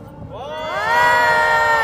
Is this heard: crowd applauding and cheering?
yes